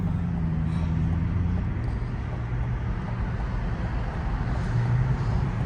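Car driving by at the Tesla Westbury grand opening, a steady low engine and road rumble that holds evenly across the whole stretch with faint outdoor background.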